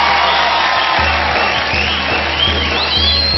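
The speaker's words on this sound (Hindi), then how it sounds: "जोरदार तालियां हो जाए इनके लिए।" A talent show audience applauds and cheers for contestants, a loud, steady wash of clapping and whoops filling the hall with music underneath.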